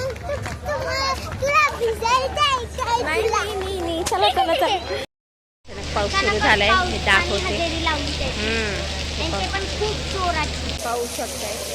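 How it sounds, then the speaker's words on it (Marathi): Steady heavy rain hisses underneath at an MPL cricket match while children chatter and shout loudly over it; the sound cuts out briefly midway, then resumes. "पाऊस बघा किती जोरात चालेल"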